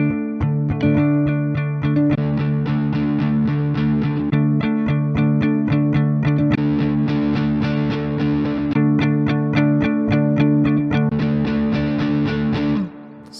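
Electric guitar through a Sonicake Pocket Master amp modeler, played steadily while presets are switched, with the tone changing between distorted and effected sounds with barely any gap, loud and continuous with no talking.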